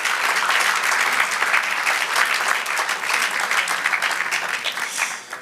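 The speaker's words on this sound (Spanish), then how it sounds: "Dale otro aplauso" Warm, sustained clapping from a church congregation during a sermon, filling the space evenly and tapering slightly at the end.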